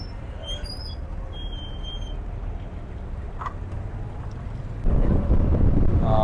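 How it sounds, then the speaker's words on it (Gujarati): A tourist boat heads out across a lake toward a floating village in Cambodia, with engine rumble and wind buffeting throughout, the water and motor noise swelling louder near the end. "સો અહીંયા આ રીતે આ લોકો બોટમાં બેસાડીને આગળ લેકમાં લઈ જાય છે."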